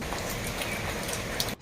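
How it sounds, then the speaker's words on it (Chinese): Heavy rain falling outside, a dense and fairly quiet hiss of drops that continues steadily through the brief moment before stopping abruptly. "外面下那么大雨"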